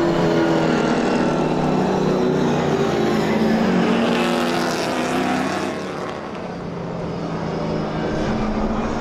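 Pro stock race cars roar around a speedway oval in a heat race, a dense, loud, continuous engine drone with a slight dip and swell as the pack passes.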